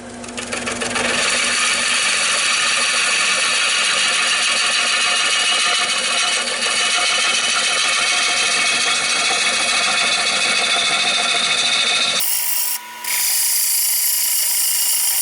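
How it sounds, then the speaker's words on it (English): Loud, continuous grinding and rasping of a lathe turning a green oak bowl, steady for about twelve seconds, then it abruptly cuts to a quieter hum. "Man, I love cutting green wood."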